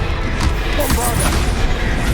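Bombarda blasting spell explosions in Hogwarts Legacy give deep booms and crashes inside a thick, steady wash of combat noise, loud and close, with voices mixed in.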